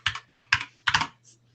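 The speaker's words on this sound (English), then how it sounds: "What are you typing over there?" Three short bursts of keystrokes clatter on a computer keyboard, close and fairly quiet, separated by brief pauses, with a soft electrical hum underneath and no talking.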